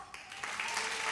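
Applause from a comedy-show audience, a brief dense burst of clapping that builds slightly over about a second.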